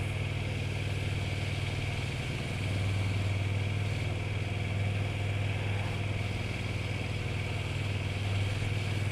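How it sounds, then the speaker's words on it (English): A KTM 1290 Super Duke GT motorcycle riding in second gear at low speed through a village, its engine a steady, even drone with light wind noise, heard from the rider's position. "And again, second gear, bike is quite happy."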